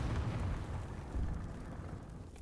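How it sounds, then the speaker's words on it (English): A tank gun shot striking its target in a video game with a Maus super heavy tank, heard as a continuous low, rumbling boom that lingers throughout without any talk. "Very precise shot."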